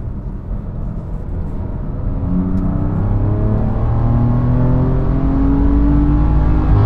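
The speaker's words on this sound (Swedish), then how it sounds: "det var en acceleration på trean från 3000 varv ungefär" A BMW M3 F80 accelerates hard in third gear from about 3000 rpm, its engine note climbing steadily and growing louder, heard from inside the car with no talking.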